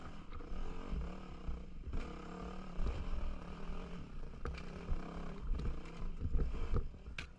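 Dirt bike engine straining as it climbs a rocky hill on a trail ride, a steady close roar with rough revving and clattering over the rocks.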